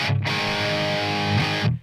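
A distorted electric guitar chord rings through a pedalboard with EQ and no reverb or echo, struck twice in under two seconds and cutting off dry.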